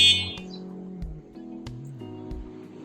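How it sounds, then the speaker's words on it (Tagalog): An Aerlang 10 electric scooter gives a series of short electronic beeps while being checked, three crisp tones spaced about every two-thirds of a second, close and clear over a low hum. "Check natin yung beep."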